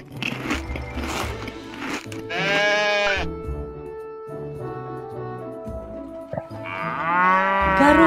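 Cartoon farm animal calls from a children's animal game, including a cow mooing, with long drawn-out bleat-like and moo-like calls over a bouncy music backing.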